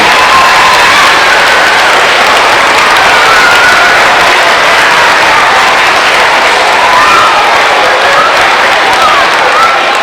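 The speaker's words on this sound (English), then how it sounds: "please give a round of applause to your teachers and the people that work with you every day" Schoolchildren at a 25th anniversary celebration applaud their teachers and staff, a loud, dense, continuous crowd clapping with some cheering mixed in throughout.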